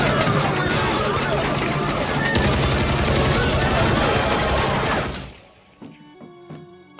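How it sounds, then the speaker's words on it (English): Rapid cartoon gunfire from a firefight, dense bursts of shots and clatter layered with shouting voices, loud and continuous before cutting off into quieter background music. "there was a firefight."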